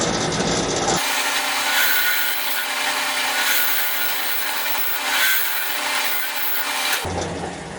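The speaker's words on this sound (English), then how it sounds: "I'm going to stick with the roughing gouge right now." Roughing gouge cutting a wooden turkey-call blank spinning on a lathe, a steady loud scraping, hissing rasp that runs for about six seconds with slight swells, with the motor hum before and after.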